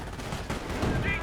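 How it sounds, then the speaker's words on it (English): Autocannon fire tears into a house in the video game Company of Heroes, a quick series of muffled bursts and impacts under game noise, fairly faint and brief. "This house is getting ripped apart by this autocannon."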